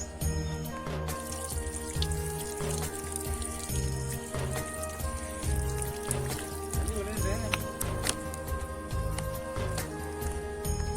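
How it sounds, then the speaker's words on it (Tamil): Spring water from a hilltop source runs down over rock in a steady, close trickle and splash, with a low rhythmic hum of other sounds underneath. "மேலே இருக்க ஊற்று அப்படியே இது வழியாக தண்ணி மாதிரி ஓடிக்கிட்டு கீழே போய்"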